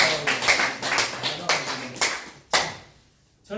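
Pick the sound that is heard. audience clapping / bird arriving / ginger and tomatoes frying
audience clapping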